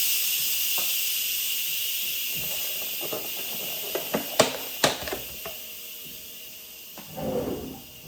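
A pressure cooker used for cooking eggs vents steam in a continuous loud hiss, joined by a few clicks and knocks near the middle and a rushing burst toward the end.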